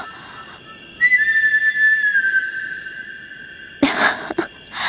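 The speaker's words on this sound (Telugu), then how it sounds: "అది మా రాహుల్ విజిల్" A person whistles in a film scene: one long, clear sustained note that wavers slightly and lasts about two seconds, followed by a brief burst of rustling noise, with no speech.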